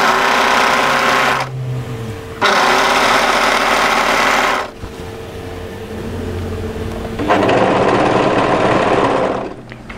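An overlocker runs in loud bursts while trimming and serging a seam on a raglan hoodie, stopping and starting several times with short pauses between runs.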